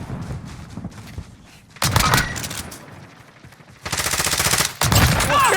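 Bursts of automatic gunfire in the video game Call of Duty Warzone, set in Verdansk: rapid fusillades with a sharp loud burst near the middle and a sustained volley toward the end, over game ambience.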